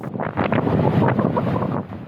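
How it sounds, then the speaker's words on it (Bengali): Strong, blustery cyclone wind on the Bay of Bengal coast near Kuakata roars across the microphone in surging gusts, with a continuous rushing, buffeting noise and no voices. "উপকূলে ক্ষণে ক্ষণে বৃষ্টির সাথে বইছে দমকা হাওয়া"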